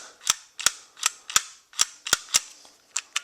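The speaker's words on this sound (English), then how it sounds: "we want to rotate our feed cam, and we want to see that feed pawl going all the way forward" Sharp metallic clicks and snaps from an M60 machine gun top cover as its feed cam is turned, about a dozen crisp, close ratcheting clicks in an uneven rhythm.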